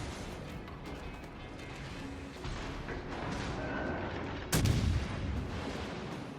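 Naval gunfire from warships in World of Warships: Legends, a rumbling battle din with a heavy, sudden boom near the end standing out above the continuous low background noise.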